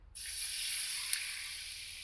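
A sudden loud hiss as water hits hot oil in a tempering, settling into a steady, bright sizzle that continues to the end.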